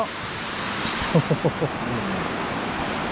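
Rain falls at a waterfall, making a steady, broad rushing hiss throughout, with a few brief vocal sounds partway through.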